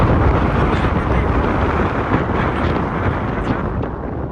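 Strong wind in Mustang, Nepal roars and buffets steadily throughout, a loud broadband rush with no clear pauses.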